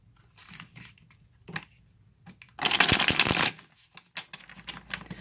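Tarot cards are shuffled close by, a few soft taps and rustles giving way to one loud, dense riffle lasting about a second, followed by lighter card handling and slides.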